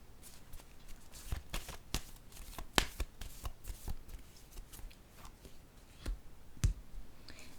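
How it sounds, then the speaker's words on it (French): Tarot cards handled and laid down on a table, giving a series of quiet close flicks, taps and soft card clicks with one sharper slap near the end, faint and without talk. "Attendez, je vais déposer une autre carte ici."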